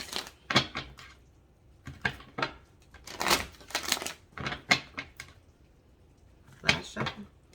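Tarot cards are shuffled in quick riffling bursts with short pauses between, crisp and close in an otherwise quiet room.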